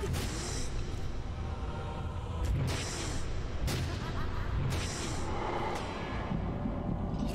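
Explosions in the game SINNER: Sacrifice for Redemption boom and rumble in a dense, continuous mix, with several sharp blasts every second or so over constant noise.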